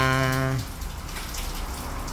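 Steady rain falls at night on a roof in Pangasinan, a soft continuous hiss that follows a brief held tone at the start.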